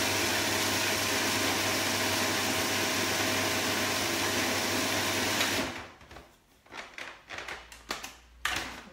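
A food processor grinding nuts into fine powder runs as a loud, steady whirring roar, then cuts off, leaving a few short clattering bursts of the blade and bowl.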